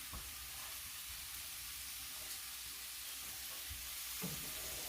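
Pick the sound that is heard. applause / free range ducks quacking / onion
onion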